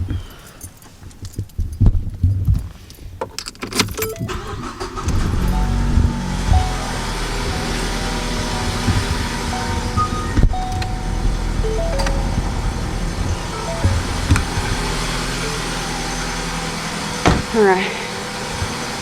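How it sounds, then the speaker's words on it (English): Keys jangle and rattle before a car engine catches and settles into a steady, loud idle hum that continues to the end, with a person talking over it. "I'm gonna start the car."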